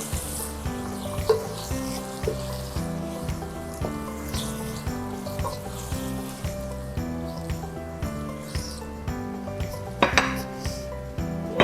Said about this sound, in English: And now I add also my fire roasted tomatoes in it. Give it a good stir.